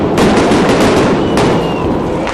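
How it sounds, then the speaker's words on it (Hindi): Firecrackers burn and police fire shots into the air at a street protest, a dense, loud crackle of rapid bangs over a continuous crowd roar, with a few sharper reports standing out. "इस दौरान कई लोग जलते हुए पटाखे भी फेंकते दिखे।"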